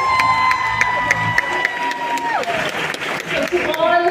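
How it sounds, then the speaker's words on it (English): An awards-show crowd at the Kenya National Theatre claps and cheers for an absent woman honoree, with whoops and shouts rising over the applause and a voice speaking amid the noise. "she deserves a round of applause"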